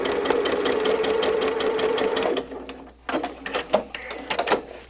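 A sewing machine stitching along the seam allowance of a quilt block, a steady close whirring run that stops partway, followed by short stuttering bursts of stitching and handling noises.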